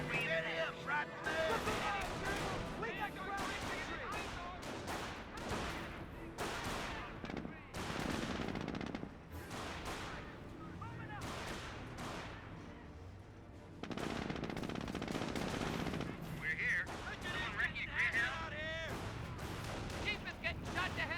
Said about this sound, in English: Right in the middle of a goddamn firefight!